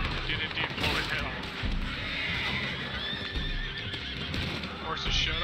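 Several horses neigh and whinny loudly with clattering hooves, amid the noisy clutter of a Red Dead Redemption 2 game scene with occasional bangs.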